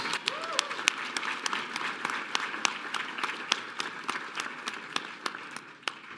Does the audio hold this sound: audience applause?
yes